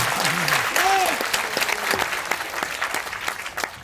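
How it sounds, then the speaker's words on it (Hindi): An audience at a business seminar breaks into steady, dense clapping that fills the room, with a few whistles and a voice calling out over the applause. "ताली बजाओ तो फिर ढंग में बजा लो एक बार यार।"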